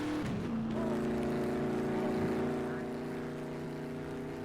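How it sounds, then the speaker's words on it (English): A loud car engine passing nearby, a steady droning roar with layered tones that swells briefly and then eases off slightly as it moves on. "There's a loud car."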